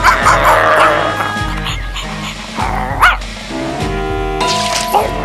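A cartoon dog in an animated family comedy set at a zoo barks and yips repeatedly, with whimpering in between, close and loud over a busy music-and-effects background.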